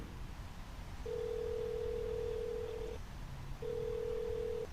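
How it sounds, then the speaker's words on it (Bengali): An outgoing telephone call ringing back, with two steady electronic ring tones separated by a short pause, clear and close and with no voices. "দুবার রিং হওয়ার পর ওপাশ থেকে ফোন তুললেন"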